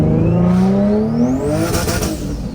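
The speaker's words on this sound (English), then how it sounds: "first drive in his single turbo G35 Coupe" Single-turbo Infiniti G35 Coupe engine revs hard while driving, rising in pitch and then easing back, loud and close with turbo whine over the exhaust; no talk.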